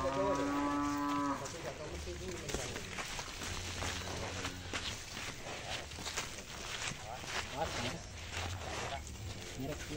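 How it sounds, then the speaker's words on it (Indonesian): Large Pegon cross Simmental cattle led out of a barn on a Jember farm, mooing loudly and close at the start, followed by hoof shuffling and farm background noise with people talking. "Sapi pegon cross simental."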